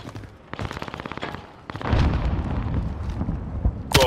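Video game firefight with rapid gunfire bursts followed by a grenade explosion that rumbles through the rest of the moment, more shots crackling on top and a sharp blast at the very end.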